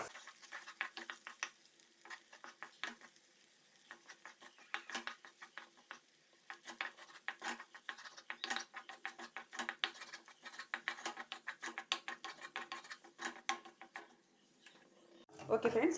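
A spatula stirs egg mushroom fried rice with pepper in a pan, giving quiet, irregular scraping and light sizzling patter. It runs continuously and softly, ending with a louder clatter.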